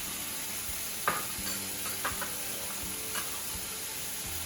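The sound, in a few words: mild chili being added and stirred in a sizzling pan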